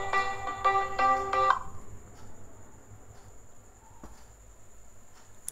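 A mobile phone ringtone sounds for an incoming call: a bright, melodic ring of repeated tonal notes for about a second and a half, then it cuts off and leaves a quiet room.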